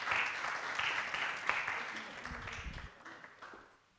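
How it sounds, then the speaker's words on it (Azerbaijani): Audience applause at a televised Sazımın səsi music show, a dense burst of clapping from a crowd that gradually thins and fades out over a few seconds, with no speech over it. "Alqışlar istəyirəm."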